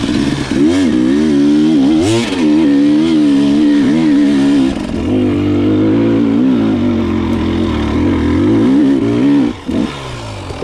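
A dirt motorbike revving hard in second gear on a hill climb, loud and close, with the engine pitch rising and falling through repeated throttle surges and a brief dip near the end.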